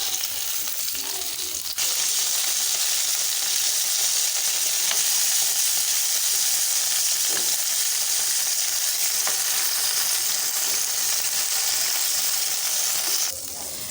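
Eggplant pieces fry in a pan of medium-hot oil with salt and turmeric, giving a loud, steady, close sizzle that holds for the whole stretch before cutting off near the end.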